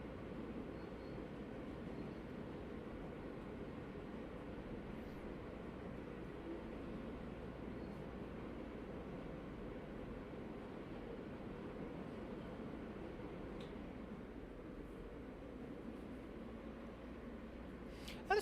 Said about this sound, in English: Now, this train does sound pretty cool